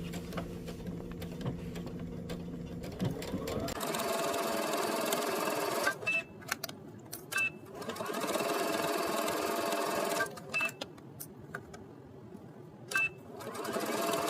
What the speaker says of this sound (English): you'll take it to the machine and stitch a 3/8 of an inch seam allowance